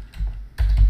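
A short burst of computer keyboard keystrokes while typing a password, several quick clicks in two close clusters, near and clear with no talking.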